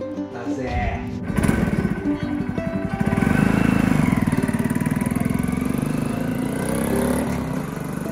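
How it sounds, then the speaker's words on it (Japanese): A Yamaha TW225 motorcycle engine, heavily customized and being revived, cranks and catches, then settles into a loud, steady idle with a rapid, even chugging rhythm, close by. "しかし小山さんさ、エンジンかかりそうじゃない？"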